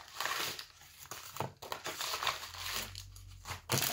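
Funko pin packaging is torn open with soft, close crinkling and crackling of plastic and paper, a few rips in quick succession at low volume.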